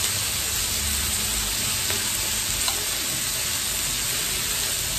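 Australian beef rolls with enoki mushrooms sizzle and fry on a combined hotpot and grill pan, a steady close hiss with faint crackles throughout.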